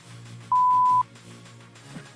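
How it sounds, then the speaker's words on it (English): A single clean electronic beep lasting about half a second, clear over a quiet background hum. "The beep's always so late."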